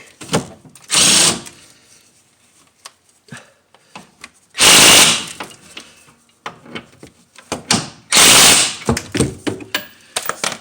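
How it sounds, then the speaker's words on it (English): An impact gun driving a 19 mm socket on the brake hose fittings of a 2006 Dodge Caravan fires in three loud, short bursts, separated by quieter clinks and handling noises. "I'm gonna see if I can use the impact gun"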